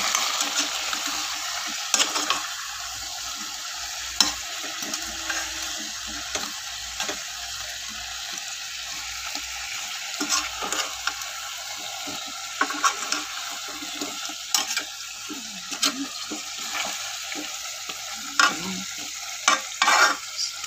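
Chayote being stirred into chicken in a pot for chicken tinola, with a steady sizzle underneath and repeated scraping, clinking stir strokes throughout, no talking.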